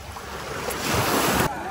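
Sea waves wash onto Isola Bella beach at Taormina, Sicily, a steady soft surge swelling toward the end with light wind noise over the microphone.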